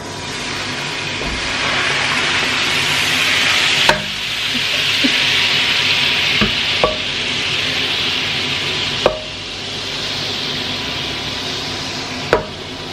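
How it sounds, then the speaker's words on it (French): Hot pan being deglazed with a little water, giving a steady loud sizzle with a few sharp clinks of a utensil scraping and stirring at intervals. "Là je vais déglacer avec un tout petit peu d'eau pour enlever les sucs"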